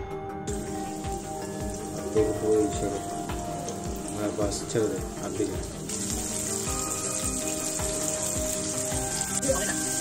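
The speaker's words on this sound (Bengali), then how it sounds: "তেল যখন প্রায় 170 ডিগ্রি সেন্টিগ্রেড হবে তখন চিকেন কিউবসগুলো দিয়ে গোল্ডেন ব্রাউন হওয়া পর্যন্ত ভাজুন।" Chicken cubes deep frying in oil heated to about 170 °C for popcorn chicken, a dense continuous bubbling sizzle heard close up with crackling pops throughout, fairly loud and steady with no talking.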